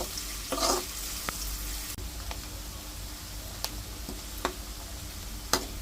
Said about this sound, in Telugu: చూడండి, ఇలా మంచిగా ఫ్రై చేసుకోవాలి.